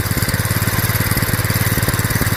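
A propane-converted lawn tractor engine idles high with its idle screw turned way up, giving a steady, fast, throbbing putter that stays close and even throughout, with no voices.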